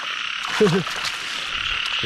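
A single short frog croak stands out near the middle of the clip, over a steady background of night-time insect hiss at a paddy or pond edge.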